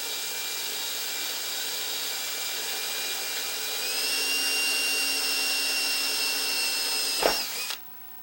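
A power drill bores through a metal seat mount plate on a Mustang project car, a steady high whine that rises in load partway through, then ends in a sharp bite as the bit breaks through and the motor stops.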